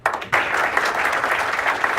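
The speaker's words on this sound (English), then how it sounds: "big round of applause for all of you being here today" Audience applause at a golf charity event, a crowd breaking into clapping after a brief quiet start and keeping up a dense, even patter at moderate volume, mostly without voices over it.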